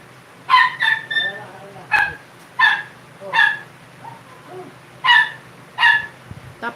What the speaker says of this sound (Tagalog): Buti na lang walang copyright sa tahol ng aso.